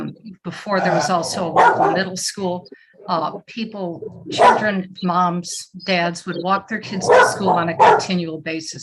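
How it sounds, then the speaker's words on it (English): A pet dog barks and yips at home in the background, brief sharp outbursts mixed in under a man's steady speech. "And excuse the dog, I'm at home."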